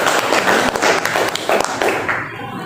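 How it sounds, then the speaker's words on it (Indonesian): Applause for a student in a classroom during a teaching-practice lesson: a burst of many hands clapping, dense and fairly loud at close range, lasting a couple of seconds before fading out. "Berikan tepuk tangan untuk dia."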